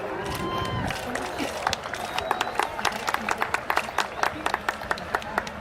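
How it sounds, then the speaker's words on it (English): At the Queen's Cup Steeplechase, a racecourse crowd applauds the winners. Scattered clapping and murmuring voices settle into a steady run of sharp, evenly spaced claps close by. "Huge round of applause, please"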